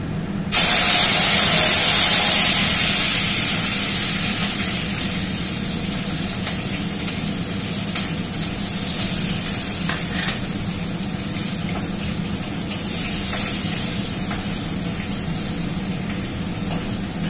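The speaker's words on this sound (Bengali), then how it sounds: "এই যে কারি পাতা, গোটা জিরে, এই হলো কাঁচা লঙ্কা, এগুলো সব ফোড়ন দেব।" Curry leaves, whole cumin and green chilies dropped into hot oil for tempering: a loud, sudden burst of spitting sizzle that gradually settles into a steady crackling fry, close up, with occasional pops and light clinks and no talking.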